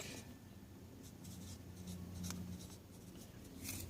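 A pen writes a label on a wooden popsicle stick marking a Brunswick fig cutting, making quiet, close, scratchy strokes in short bursts over a low background hum.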